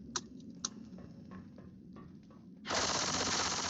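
In a co-op Left 4 Dead 2 campaign on the No Mercy map, a few sharp, scattered gunshots ring out. Then a loud, dense burst of sustained gunfire takes over and runs to the end.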